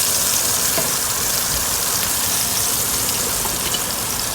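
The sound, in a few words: onions frying in a pan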